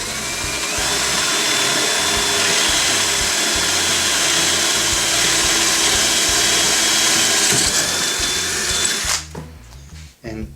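A power drill drilling through wood whirs steadily and loudly for several seconds, then cuts out and stutters in short bursts near the end.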